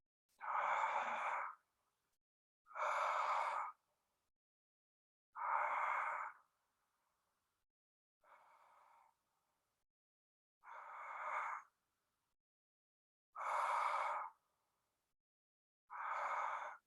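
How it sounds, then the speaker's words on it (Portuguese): Slow guided deep breathing, about seven long inhale-exhale breaths spaced evenly a couple of seconds apart, close and soft, one breath noticeably quieter than the others, with no talking. "E continua respirando desse jeito enquanto eu vou guiando o exercício."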